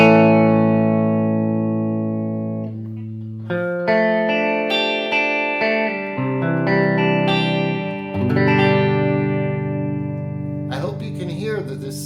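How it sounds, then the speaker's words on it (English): Clean electric guitar through an Orange Micro Dark amp with its stock tube, middle pickup and added reverb, playing sustained chords and single notes with a ringing, spacious tail, loud and alone with no talk. "There's still a beautiful clean tone with the stock tube with some reverb."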